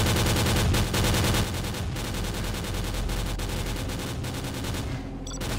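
A BTR armoured vehicle's mounted machine gun fires in STALKER: Call of Pripyat as a loud, continuous stream of rapid shots, steady for several seconds before easing off at the very end.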